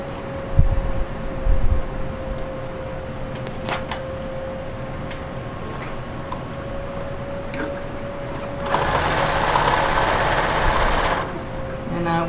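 A sewing machine stitches segments of fabric pockets for a cutting table organizer, a steady mechanical whir running through the clip and growing louder and busier near the end.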